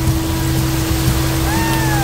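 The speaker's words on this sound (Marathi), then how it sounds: "पावसाचं प्रमाण खूप वाढत चाललंय, त्यामुळे पाण्याचा प्रवाह खूप जोरात चाललाय इथे." A monsoon-swollen stream rushes hard at Visapur fort, a dense, steady roar of flowing water filling the whole moment with no talking over it.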